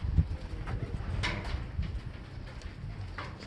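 Pigeons coo softly near a breeder's coop in bad weather, with faint wingbeats and a low, rumbling background and no talk.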